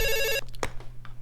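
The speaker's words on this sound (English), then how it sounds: "He's going to call in a second, okay?" An incoming phone call rings with a bright electronic tone for a moment, then cuts off abruptly, leaving a low steady hum and faint background sounds.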